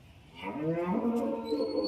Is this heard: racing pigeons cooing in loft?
no